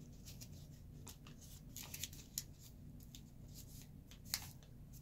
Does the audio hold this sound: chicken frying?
no